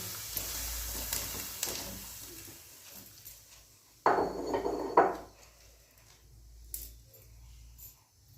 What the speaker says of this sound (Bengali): কড়াইতে দিলাম এতে ধুয়ে রাখা ফুলকপি